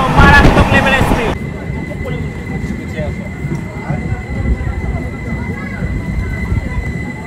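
Express train 12353 from Bengaluru bound for Bhagalpur rushing past at high speed, a loud continuous roar of wheels and rail rumble with a brief burst of horn or whine at the start, steady and close.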